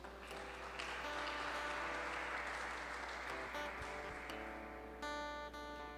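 A church congregation applauding during an evening service, a broad wash of steady clapping with music or sustained tones underneath, continuing throughout at a fairly even level.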